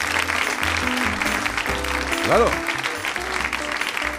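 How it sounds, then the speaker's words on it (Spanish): Applause from a Spanish comedy talk-show audience rises as a broadband clatter under lively speech, swelling briefly near the middle of the short stretch while voices carry on over it. "qué aplausos para ti."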